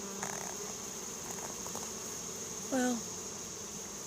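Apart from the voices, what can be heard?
honey bee swarm arriving at a scented swarm lure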